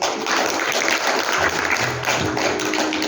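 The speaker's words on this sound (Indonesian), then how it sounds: "Kita tepuk tangan sama Tuhan" A crowd claps together in a steady burst of applause, loud and close, with no talking over it.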